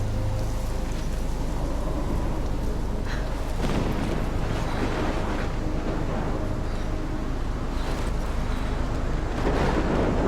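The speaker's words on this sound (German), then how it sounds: "Der Sturm ist echt heftig." A heavy storm wind roars in the video game Life is Strange, a loud, steady, broad whoosh with a low rumbling undertone and occasional stronger gusts, with no voices.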